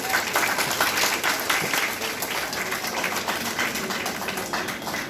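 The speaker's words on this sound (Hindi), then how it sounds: "थोड़ी तालियां तो जोर से बजाओ यार" Audience applause fills a classroom-style teacher training session on lesson planning, a steady dense wash of many hands clapping, fairly loud and continuous throughout with no talk over it.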